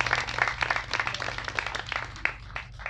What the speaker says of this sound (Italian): lo salutiamo con un calorosissimo applauso al sindaco